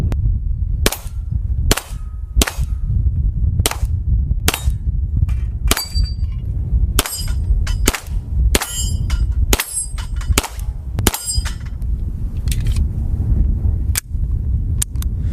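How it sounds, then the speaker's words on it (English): A Beretta M9A3 9mm pistol fires a steady string of about twenty shots at close range, each sharp crack followed by bright metallic pings as rounds ring steel targets outdoors. "What this is, though, is a Beretta M9A3. This is chambered in 9mm"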